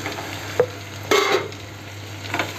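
Cut okra pieces fry in oil in a pan for a spicy Marathi bhendi dish, a steady soft sizzle broken by a few sharp stirring scrapes and clinks, with no one speaking.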